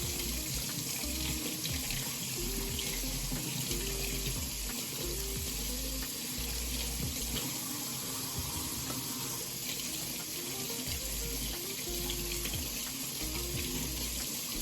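Garden-fresh cucumbers are rinsed under a running kitchen tap, a steady close stream of water splashing into a sink throughout, with no talking.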